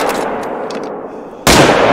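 A loud rifle shot fired in the hunting video game theHunter: Call of the Wild bursts in near the end, cutting sharply over a steady background of outdoor ambience.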